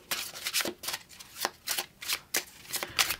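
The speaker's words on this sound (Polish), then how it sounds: "Więc zobaczymy, co tutaj jeszcze ja dociągnę karty" Tarot cards are drawn and shuffled from a deck in quick, crisp riffling bursts, about eight soft papery slaps in a loose rhythm, close and fairly quiet with no talking.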